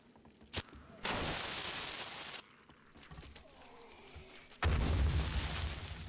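Pipe bombs go off in the 7 Days to Die video game, heard as several booming blasts with rumbling tails: a sharp pop, then two sustained bursts, separated by quieter stretches.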